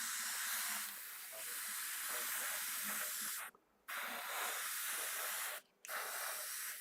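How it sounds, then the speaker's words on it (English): Paint mists from an airbrush onto an Aoshima 1/24 Knight Rider scale model in a steady close hiss, broken by two brief pauses where the trigger is released before spraying resumes. "I'm just going to spray this"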